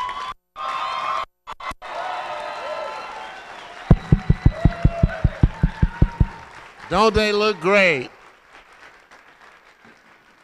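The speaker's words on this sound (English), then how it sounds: "Let's give them a huge round of applause." A high school graduation crowd applauds and cheers for the graduates, starting with bursts of clapping, then a run of sharp rhythmic claps and loud whoops before the noise fades. A speaker talks briefly over it.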